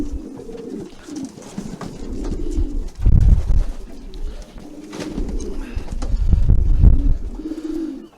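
Rare coloured pigeons, including brown frill stencils and satinettes, coo repeatedly in an allotment loft, with soft throaty calls rising and falling nearby.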